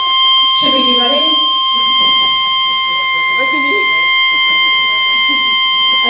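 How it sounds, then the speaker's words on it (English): A fire alarm sounds throughout, a steady loud electronic tone with several pitched bands, in a conference talk hall as people speak over it. "Is that some kind of fire alarm? Should we be running?"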